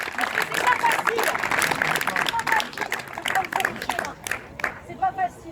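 A crowd at an outdoor protest rally claps steadily and keeps going while voices talk over the applause.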